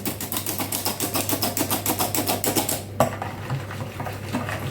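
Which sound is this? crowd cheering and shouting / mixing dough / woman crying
mixing dough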